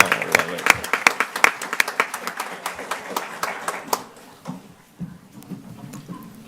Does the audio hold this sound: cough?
no